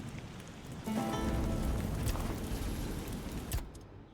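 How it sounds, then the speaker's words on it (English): Rain falling in the video game Tainted Grail: The Fall of Avalon, a dense, even hiss of drops on surfaces that swells in and holds steady for several seconds without talk. "It's raining."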